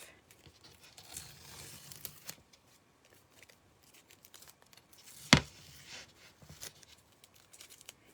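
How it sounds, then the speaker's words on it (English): Tape peeled off a chalk craft project at close range, soft crinkling and tearing rustles with one sharp snap partway through, quiet overall with no talking. "So we're going to just pull this tape off."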